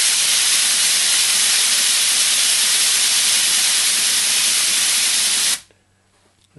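An ARM1G model steam engine runs on compressed air on its first run, giving a loud, steady, close rushing hiss that cuts off abruptly near the end and leaves near silence.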